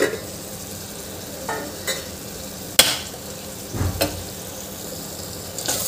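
Pumpkin curry simmering in a pan: a soft, steady sizzle and bubbling with occasional sharp scrapes and clinks of a spoon stirring against the pan, close up and fairly quiet.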